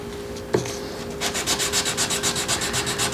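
Hand sanding a knife blade with 400 grit sandpaper, a close, loud, steady rhythmic back-and-forth rasping after a short scrape and a knock, heard alone.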